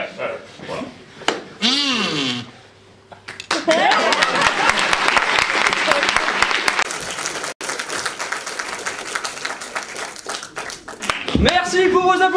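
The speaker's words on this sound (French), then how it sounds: "Merci pour vos applaudissements, cher public." Audience applause at a French comedy evening show, with a brief voice and whistle-like tones at the start, then a sustained burst of clapping from the crowd, another voice entering near the end.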